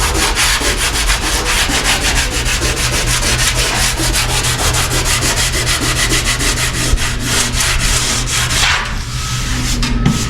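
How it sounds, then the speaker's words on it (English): Body filler on a 1962 Impala scuffed by hand, a loud, continuous rasping rub with steady back-and-forth strokes, close to the microphone with no talking. "you can scuff all this by hand"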